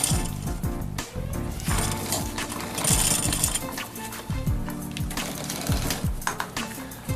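Continuous busy mechanical whirring and rattling with rapid clicking ticks, like bike derailleur pulleys spinning steadily up close, no talking.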